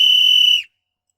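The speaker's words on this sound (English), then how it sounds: "such an important survival tool, a good whistle" A loud survival whistle blown in one steady shrill blast for about half a second, then cut off abruptly into silence.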